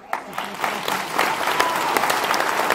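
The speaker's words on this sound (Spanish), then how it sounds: "quiero pedir un aplauso para ustedes" Concert audience applauding at an independent music show, clapping swelling from a few scattered claps into a full, steady round of many hands.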